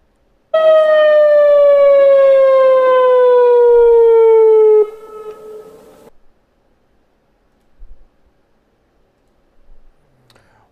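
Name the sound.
newly installed civil defense siren being tested at Oroville Dam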